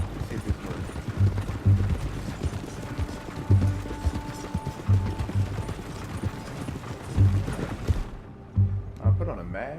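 Rhythmic horse hoof clip-clops in the video game Red Dead Redemption 2 pound in repeated bursts, close and loud, among mechanical clatter and game sounds before fading near the end.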